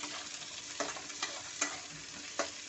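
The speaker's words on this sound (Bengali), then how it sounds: "পেঁয়াজ দিচ্ছি, পেঁয়াজটা একটু নেড়ে নেব।" Onions frying in a pan, a soft steady sizzle with four distinct scraping stirs spaced about a second apart, quiet and close, no one speaking.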